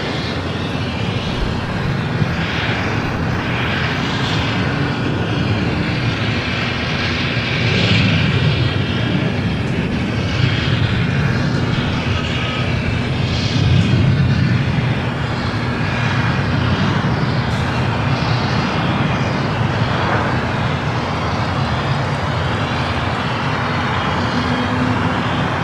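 Boeing 787 Dreamliner arriving on the south side at LAX, a loud, continuous jet engine roar that swells slightly partway through and stays steady, with no talk.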